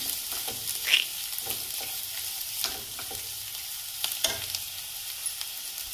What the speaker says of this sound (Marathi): गाजर टाकते. छान मिक्स करून घेऊया.